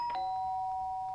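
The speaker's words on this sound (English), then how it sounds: "The sharp sound of the doorbell pierced my sleepy haze and pulled me back to the real world." In the video game Danganronpa, a doorbell gives a bright electronic chime whose pure tone rings on steadily and fades gently, clear and alone.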